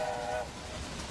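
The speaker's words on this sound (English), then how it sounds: "you can hear a train on the other track, I think." A freight train passes on an adjacent track in the railroad video game Railway Empire, a steady rumbling rail noise with a brief tonal horn-like whine at the start, heard at moderate distance.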